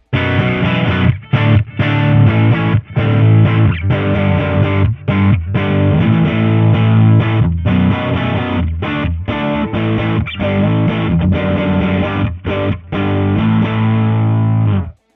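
Heavily distorted electric guitar plays continuously with a thick, saturated amp tone through a speaker distortion effect, chords chugging with brief gaps and stops throughout.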